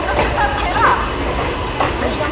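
Howrah-Jamalpur Super Express arriving at Bolpur station, a loud, close rumble of carriages rolling slowly along the rails, with a voice talking over it.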